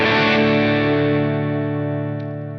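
An electric guitar played through a Klon Centaur overdrive pedal into a clean amp, blended at low volume: a single sustained chord rings out close and full, slowly decaying over a few seconds.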